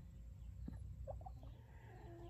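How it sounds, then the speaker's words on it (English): Chickens in a chicken yard give a few faint, brief clucks against a low, steady outdoor background. "So I'm out here with the chickens"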